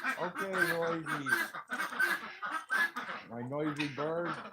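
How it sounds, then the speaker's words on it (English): A noisy farm duck quacks repeatedly at close range in harmonic bursts. A person speaks intermittently alongside it. "My noisy bird."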